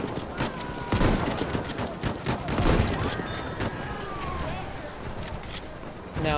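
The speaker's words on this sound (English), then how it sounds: "Enemy machine gun!" An enemy machine gun fires in a World War I shooter battle at Achi Baba, rapid cracking bursts and scattered gunfire from near and far in a noisy fight.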